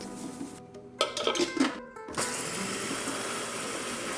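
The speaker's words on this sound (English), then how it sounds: "Blend up the following: oats, ground almonds, and salt." Blender grinding oats, ground almonds and salt. Intermittent pulses come first, then a steady motor whir runs on without a break.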